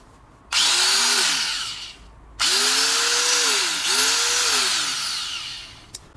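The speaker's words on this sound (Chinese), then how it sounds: "我感觉角磨机装这种刀片啊， 看上去就特别危险啊" Repaired angle grinder fitted with a cutting blade on a test run: three loud high-pitched whining bursts of spin-up and run-down, close by, with no talking.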